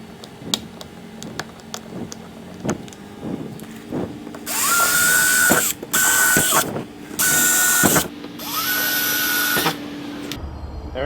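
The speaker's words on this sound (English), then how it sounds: "There we go, drilling holes in my kayak again." A power drill bores 3/8 inch holes through a plastic Pelican Catch 120 kayak hull to fit well nuts. It starts with light taps and clicks, then gives three loud, close, whining bursts with short pauses between them.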